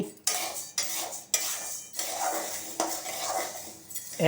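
Flax seeds roasting in a pan on low heat, with a run of sharp scrapes and crackles as they are stirred and pop, in uneven close bursts with no one speaking.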